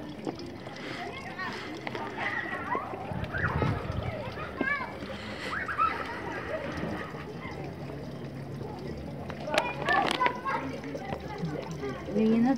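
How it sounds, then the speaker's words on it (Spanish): Water is drawn and splashed at the sanctuary of the Virgin of Cocharcas in Orcotuna, with light splashing and sloshing under the chatter of adults and children nearby. "sacando agüita."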